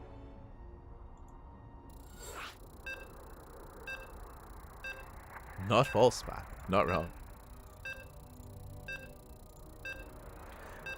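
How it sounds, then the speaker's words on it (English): Regular short electronic beeps mark the start of a match in an online strategy game tournament semifinal, repeating at steady intervals beneath ongoing commentator talk. "But you can hear the beeps, and we are getting into our first game."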